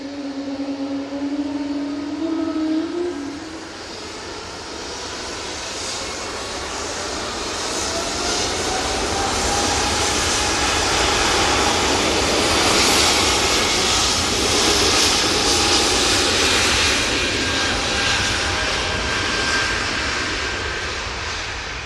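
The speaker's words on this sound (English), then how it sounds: "We do have a positioning flight for Jet 2 coming in now on short final for 2-3 right." Jet2 Boeing 737 on short final to runway 23R at Manchester Airport, a steady jet engine roar that swells and stays loud as the plane draws near, with no talk.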